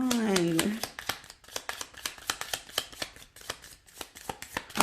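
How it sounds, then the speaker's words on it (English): Tarot cards are shuffled by hand in a rapid, uneven train of crisp riffling snaps and taps, close and clear, after someone speaks briefly at the start. "When I shuffled, I must have put them this way and that."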